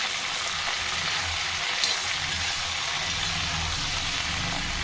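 Vegetable pieces fry on high heat in a pan for a curry made with sesame seeds and roasted gram. They give a continuous, even sizzle close by, with no talking.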